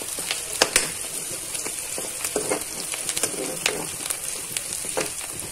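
Tadka spitting and sizzling in a generous amount of hot oil for a mixed sabji and dal, a steady close crackle with sharper pops scattered throughout.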